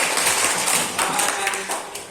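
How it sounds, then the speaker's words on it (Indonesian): A mixed combined class of fifth and sixth graders claps after a lesson on earthquakes: a steady, dense wash of applause that holds evenly for about two seconds, then eases slightly at the end. "Oke, tepuk tangan."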